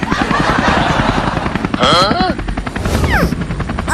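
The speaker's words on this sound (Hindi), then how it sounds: "अबे जल्दी कूदो, ये हेलीकॉप्टर गिरने वाला है।" A cartoon helicopter flies and is about to fall, giving a loud, steady, rapid rotor chop with whistling, swooping tones layered over it.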